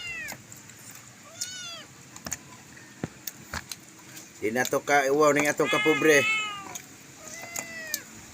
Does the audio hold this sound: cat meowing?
yes